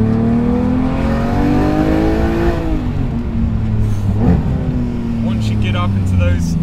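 A Porsche 911 GT3 Touring's engine revs loudly up through the range, its pitch climbing steadily, dipping briefly around the middle, then rising again, heard from close by with a faint voice in the background.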